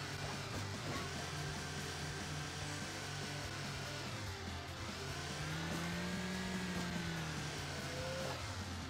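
A car engine revving steadily in the mobile racing game Hill Climb Racing 2, a dense continuous drone with rising and falling pitch sweeps, held throughout without pause.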